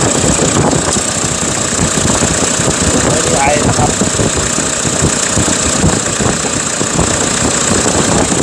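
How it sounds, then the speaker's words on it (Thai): Toyota Vigo single-cab pickup engine idling, a steady, close and fairly loud mechanical hum with even vibration that runs unbroken throughout. "อันนี้เครื่องเงียบนะครับเนี่ยเครื่องเงียบ"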